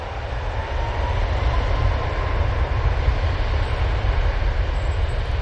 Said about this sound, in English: Turn and burn for this TUI 737 MAX 8